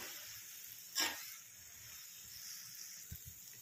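Water is poured into a pan of cooking black chickpea curry, giving a short sizzling burst followed by a low, steady simmering hiss; nobody speaks.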